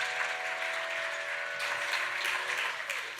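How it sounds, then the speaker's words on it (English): Audience applause at an Arangetram dance recital, steady continuous clapping that swells slightly partway through, with a faint lingering musical tone beneath at the start. "I could see from your applause that I could hear that"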